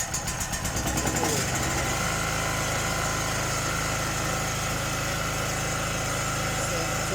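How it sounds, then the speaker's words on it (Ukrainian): ED PT 3500 petrol generator running normally after starting, a steady mid-pitched engine drone that settles into an even idle after a brief pulsing start, close and constant with a voice heard over it. "Це нормальна робота генератора."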